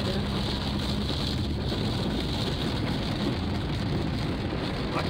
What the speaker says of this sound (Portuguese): Andar de carro de chuva também